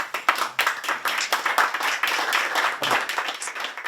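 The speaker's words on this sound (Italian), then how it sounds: "Questo applauso va al gruppo" A small audience claps for an art group at an event in a Venice palazzo, a moderate run of distinct, uneven hand claps with no one speaking.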